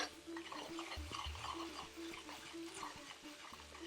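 Steady stirring of a thick curry base as coconut and milk powder melt into it for a king prawn curry, with soft scraping and gentle sizzling throughout, close and moderately quiet.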